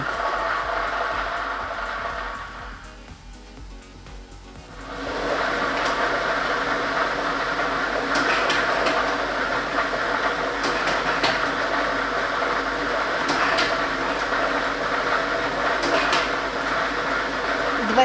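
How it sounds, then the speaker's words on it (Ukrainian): A lottery ball drawing machine runs through a state lottery draw, giving a steady loud mechanical whir and rattle of tumbling balls that dips briefly early on, then continues evenly throughout. "І ми вмикаємо лототрон."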